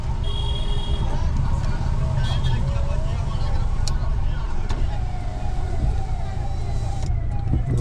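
A police car siren wails faintly over heavy, rumbling traffic-jam noise on the Malshej Ghat road, with engines idling close by and a steady roar throughout.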